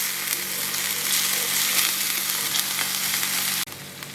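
Sour cream is stirred into a creamy Dijonnaise mustard sauce in a pan, which sizzles steadily and evenly throughout with a faint scraping of stirring, close and fairly loud, ending in a brief sharp drop.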